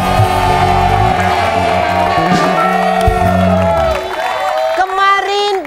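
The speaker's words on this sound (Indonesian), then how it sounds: "Kasih tepuk tangan untuk Lagana," Studio audience of an Indonesian comedy show applauding and cheering, a loud sustained crowd roar with whoops and shouts that thins slightly toward the end, with tonal music running underneath.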